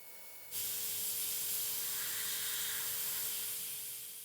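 Aztek airbrush spraying Model Master enamel paint on a 1/35 scale Bronco Staghound model, a sudden steady close hiss that begins after a brief silence and holds evenly.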